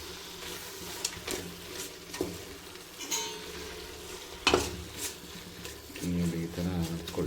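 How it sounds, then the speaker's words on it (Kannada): Tomato bath cooks in a pan with a soft, continuous sizzle, broken by several sharp scrapes and clinks as a spoon stirs it, ending in louder frying with stirring. "ಈಗ ಬೇಯ್ತಾ ಇದೆ."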